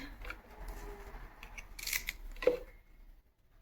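Vegetables are coarsely cut for an oats roti made with spinach and green coriander, giving a few short, crisp snipping cuts at a quiet level with no talk.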